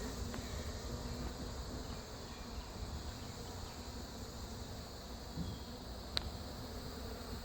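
Honeybees hum steadily around a hive being removed from a mobile home in Lakeland, Florida, a faint, even buzzing drone with a couple of brief ticks, heard alone without voices.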